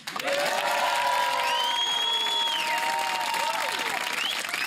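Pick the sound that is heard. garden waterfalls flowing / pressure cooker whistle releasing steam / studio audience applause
studio audience applause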